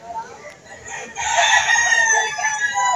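Roosters sold as stags crow loudly at a poultry market in Lipa City, Batangas, one long crow close by over busy background chatter and clucking.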